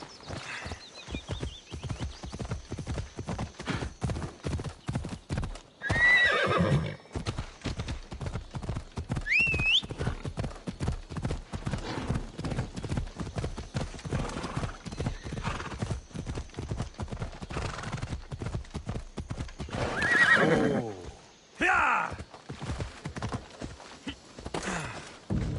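Horse in the Assassin's Creed Odyssey video game, hooves clip-clopping in a steady fast rhythm throughout, with loud neighs breaking in near the start and again around the twentieth second.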